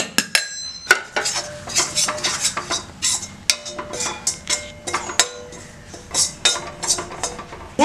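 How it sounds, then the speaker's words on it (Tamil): Gram flour roasting in ghee in a pan for Mysore pak, dominated by rapid, rhythmic metal clinks and scrapes of a spoon against the pan, with only a faint sizzle underneath. "இப்போ இதில் போட்டு நல்லா வறுத்துக்கணும்"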